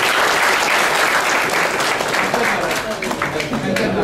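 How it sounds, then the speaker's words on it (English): A corporate meditation session audience breaks into sustained, even applause, loud and close throughout, with a voice talking faintly beneath the clapping. "Give him a big clap."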